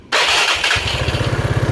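A Yamaha Mio 115 scooter with hard-starting trouble cranks briefly and catches, settling into a loud, close, steady idle with an even pulsing beat.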